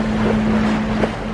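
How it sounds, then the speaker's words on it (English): Water churned up by strong river current flows steadily around a sailboat on a windless day, a continuous broadband rush with a steady low hum underneath. "Check out this churned up water just from the current."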